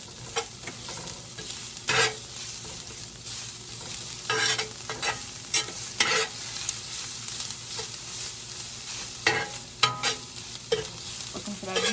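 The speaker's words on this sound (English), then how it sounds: "I'm going to give these a little stir and turn down our flame." Vegetables sizzle in a hot pan while a utensil stirs them, with repeated sharp scraping strokes at irregular intervals over a steady background frying hiss.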